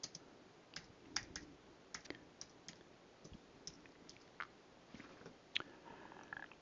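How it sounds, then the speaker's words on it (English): Quiet computer keyboard typing, scattered soft key clicks in irregular bursts, close by with no one talking. "let's type in a geographical area"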